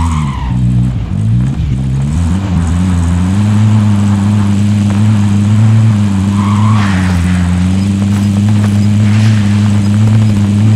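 A vehicle driven in a battle royale squad match, its engine droning steadily and loudly throughout, with a brief rev and tire noise near the start.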